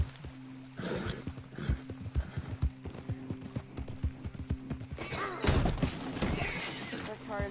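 Horse hooves clip-clop in a steady run through a Red Dead Redemption game scene, with a neigh and a crashing impact partway through, heard up close with someone speaking over it.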